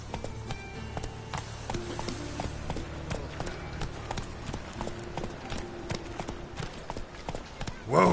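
Roach the horse from The Witcher 3 galloping, a rapid steady clip-clop of hooves in game audio with faint background music, ending in a brief louder burst.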